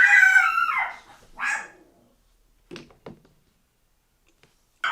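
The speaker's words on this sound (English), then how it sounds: "Literally, my dog won't stop barking." A pet dog barks and howls in a few loud bursts at the start, followed by two fainter short yaps and quiet gaps, heard alone indoors.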